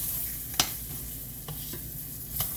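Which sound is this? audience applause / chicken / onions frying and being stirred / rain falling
onions frying and being stirred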